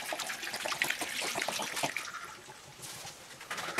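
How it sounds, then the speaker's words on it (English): Antifreeze being poured into the cooling system of a Jeep Liberty after a radiator replacement, a soft steady trickle and gurgle of liquid draining down, close and fairly quiet with no voices. "You'll hear it draining down into the cooling system."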